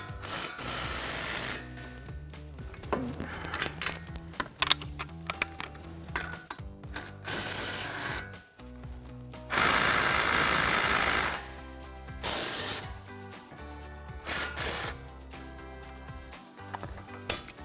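An impact wrench fitted with a 15mm socket spins out the brake caliper bolts on a 2024-2026 Mustang GT, loud ratcheting bursts of hammering repeating in several runs with short pauses between them, no talking.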